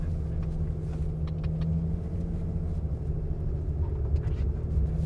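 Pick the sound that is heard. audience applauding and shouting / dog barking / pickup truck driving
pickup truck driving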